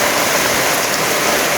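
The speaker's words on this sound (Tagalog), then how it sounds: "hindi niya magawa dahil umuulan" Steady rain pours at a house construction site in the province, a loud, continuous broadband hiss with no breaks or voices.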